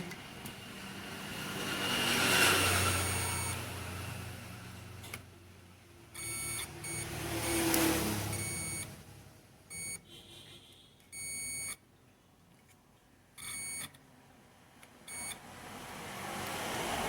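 Intermittent electronic beeps from a multimeter continuity test on a motherboard sound in short bursts, some sustained for about a second, over a faint background hum and clatter.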